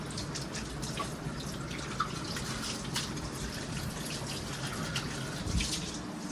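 A tap runs in a steady, soft stream with faint drips and splashes, continuous and close, with no voices.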